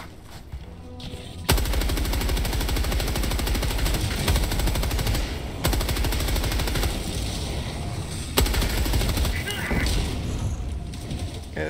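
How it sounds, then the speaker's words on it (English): Sustained machine gun fire in Helldivers 2, a loud, continuous rapid stream of shots running nearly the whole time, with a few sharper heavy bursts standing out and faint voices underneath. "we got our machine gun back"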